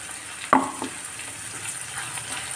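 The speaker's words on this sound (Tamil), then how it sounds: "இதையும் நல்லா வதக்கி கொஞ்சம் பச்சை வாசனை போகிற மாதிரி நம்ம வதக்கிக்கணும்" Squid masala with tomato sautéing in a pan, a constant close sizzle with one sharp clack of a spoon against the metal and soft stirring scrapes after it.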